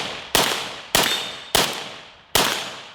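An AK-12 clone rifle fires four loud, single shots at a steady pace, each a sharp crack followed by a brief decaying echo.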